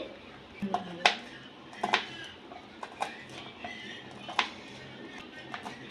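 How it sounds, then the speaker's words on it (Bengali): A knife chops green chillies on a cutting board, irregular sharp taps and knocks, some louder strikes, spaced unevenly across several seconds close by, with light kitchen clatter and no talking. "এবার লঙ্কা কেটে নেওয়া হচ্ছে।"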